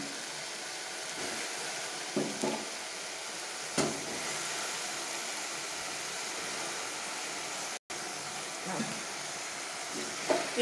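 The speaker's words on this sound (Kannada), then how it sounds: "ಸೊ ಇದಕ್ಕೆ ಇವಾಗ ಕಟ್ ಮಾಡಿರುವಂತಹ ಬದನೆಕಾಯನ್ನು ಹಾಕೊಳ್ಳೋಣ" Cut brinjal sizzles in a pan over high flame, a steady hissing fry with a few soft clinks and stirring knocks along the way.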